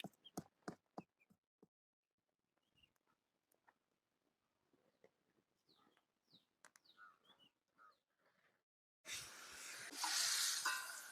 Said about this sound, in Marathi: तर आता आपली मिरची चांगली तळून घेतली